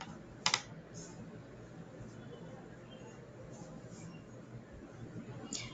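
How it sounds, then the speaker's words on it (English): Computer keyboard typing during SAP software data entry in an office, with soft, steady key taps running throughout, one louder burst of clicks near the start, and faint speech babble in the background. "See here, like this you type."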